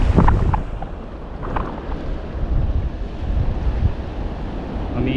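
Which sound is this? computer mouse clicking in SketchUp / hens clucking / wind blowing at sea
wind blowing at sea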